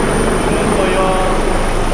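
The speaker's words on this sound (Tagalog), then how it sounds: "maingay po helicopter" A noisy helicopter passes overhead, a steady loud rotor and engine roar filling the whole clip, with a voice talking beneath it.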